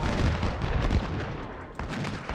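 Artillery firing in the Ultimate General battle game, a dense, loud roll of overlapping booms and gunfire with a sharp fresh blast near the end.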